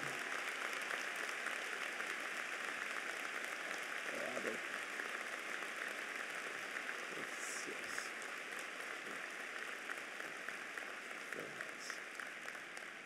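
Applause at a 2014 spring undergraduate commencement ceremony, honoring the family of Joseph Bundy, a distant, steady wash of clapping from a large hall, soft and sustained throughout with a few louder moments.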